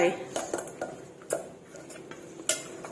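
Catfish is scooped with a metal utensil into an old-style cooking pot: a string of sharp clinks and clanks against the pot, irregular and close, with quiet gaps between strikes.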